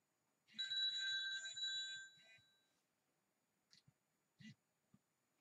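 A telephone rings in a quiet room with one electronic trill lasting about two seconds, followed by a few faint clicks and handling knocks.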